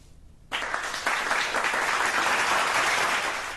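Audience applause at a college arts festival stage performance in Kerala, bursting in suddenly after brief quiet and swelling into dense, loud clapping that holds steady, then eases slightly at the end.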